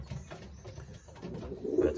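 A male racing pigeon coos close by in low, soft murmuring calls, several short pulses that build into a fuller coo near the end; no one speaks.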